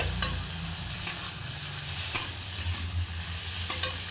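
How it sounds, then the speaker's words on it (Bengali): Fried soybeans are stirred into onion, tomato and potato frying in a pan, making a low steady sizzle broken by several sharp spatula clicks and scrapes at irregular intervals. "তো এর মধ্যে আমি ভেজে রাখা সয়াবিনগুলো দিয়ে দিলাম, দিয়ে ভালোভাবে একটু নাড়াচাড়া করে নেব"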